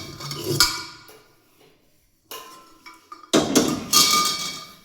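Dishes being washed in a home kitchen: a few sharp metallic clanks and clatters of pots and utensils come in separate bursts with a quiet pause between, fairly close and loud.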